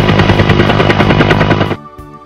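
A cartoon helicopter's rotor beats in a loud, fast, steady chop for nearly two seconds, then cuts off abruptly, leaving a faint tonal tail.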